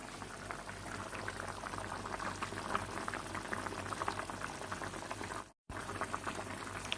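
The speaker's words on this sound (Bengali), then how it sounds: "ফুটছে, বেশ ভালোই লাগছে দেখতে" Fish curry bubbling in a pot, a dense steady boiling gurgle heard close up at low volume, briefly cutting out near the end, with no talking.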